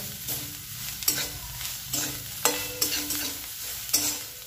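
Tender bamboo shoots are tossed and mixed by hand in a hot pan, giving a steady sizzle broken by periodic scraping and rustling strokes about once a second, close and fairly loud, with no talking.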